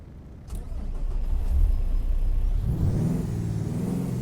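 Simulated Freightliner Cascadia truck with a Cummins X15 diesel engine in American Truck Simulator, a steady low engine drone that climbs into a louder, rising rev, heard alone without talk.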